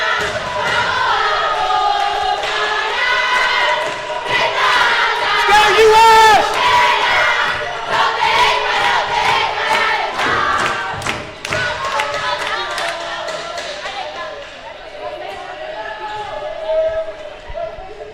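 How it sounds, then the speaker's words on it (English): Fans cheer and shout in an indoor arena during a Pan American Cup indoor hockey match between the US and Argentina, a loud, sustained crowd roar with sharp thuds and calls mixed in, fading slightly toward the end. "Hope you were able to hear the cheering from the fans."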